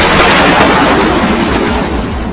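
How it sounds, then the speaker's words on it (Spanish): A massive explosion on a cargo ship produces a loud, dense, continuous rumbling roar that fills the whole stretch and fades only slightly toward the end. "Una explosión tan violenta que el casco del barco fue levantado y parcialmente fuera del agua"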